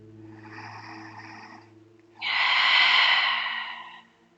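A slow, deep breath during a yoga vinyasa flow: a soft, airy inhale lasting over a second, a short pause, then a longer, louder, rushing exhale, close and alone over a faint steady hum.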